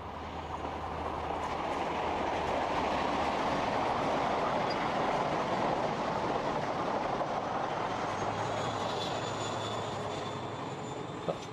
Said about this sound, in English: This one is running along the seawall at Dawlish.